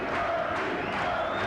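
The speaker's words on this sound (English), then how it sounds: "And you can hear the cheer for Murray in the background now." Crowd cheering at a boxing match in a ballroom, a steady wash of many voices roaring and shouting together for the fighter, continuous and fairly distant throughout.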